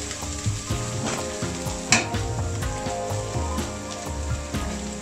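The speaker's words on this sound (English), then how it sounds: "Now I'm going to add the spice, the gravy." Spice and gravy for a British Indian restaurant-style chicken madras sizzle hard in a pan while being stirred, bright crackling frying with scraping strokes and one sharper clatter, near and without speech.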